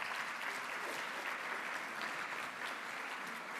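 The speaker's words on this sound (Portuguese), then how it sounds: "Um aplauso para eles" Continuous applause from a ceremony audience at a dental medicine oath ceremony, a steady, even roar of many clapping hands at moderate volume with no speech.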